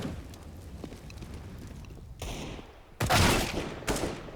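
Gunfire from a Counter-Strike match on the Overpass map, with faint shots early on and then several loud, sharp bursts near the end.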